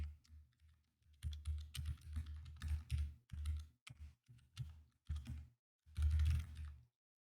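Quiet clatter of fingers typing code on a computer keyboard, steady runs of keystrokes with short pauses between them.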